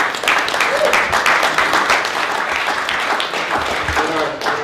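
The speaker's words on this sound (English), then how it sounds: "give her another round of applause" An audience gives a panelist a sustained round of clapping at an advocacy event for deported veterans, loud and close, with voices talking and calling out over it.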